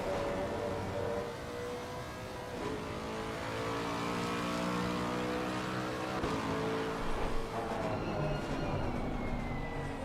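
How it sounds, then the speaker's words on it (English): A GT3 race car engine roars continuously at Misano, its pitch climbing and shifting as it revs, loud and close throughout with no talking. "Just listen to that engine. That's quite a unique engine sound, isn't it?"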